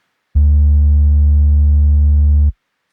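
A single deep, sustained bass note made from a bottle sample plays, steady and loud for about two seconds, then stops cleanly.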